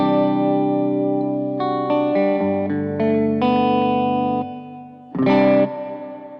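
An electric guitar runs through a Line 6 POD Express set to a brighter reverb, playing sustained chords that change every second or so, each ringing tail clearly separated from the notes, then ending on a final strummed chord.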